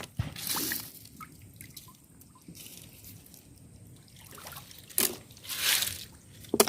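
Water drips in scattered, irregular drops at a rural home in Occidental Mindoro, with a few sharper splashes standing out against a quiet background.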